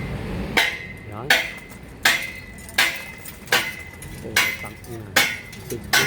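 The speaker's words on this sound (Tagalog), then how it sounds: "Martilyo. Martilyo." Sharp metallic hammer blows ring out at a steady pace, about eight strikes, each with a bright clanging decay.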